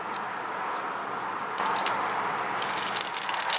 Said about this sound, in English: looks like it's high enough, makes that bubbling sound